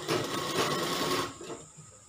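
A sewing machine stitches a curved seam on a kali gown in short bursts. A close, rapid mechanical whir runs for just over a second, then stops abruptly, with no talking.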